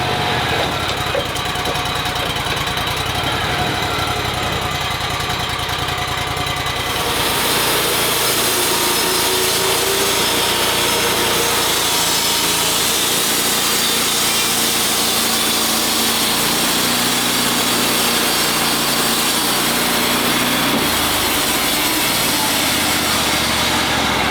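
A hydraulic Wood-Mizer sawmill runs its blade through a log, a steady loud engine drone with high whining saw noise that shifts and intensifies about seven seconds in as the cut proceeds, continuous and close with no talking.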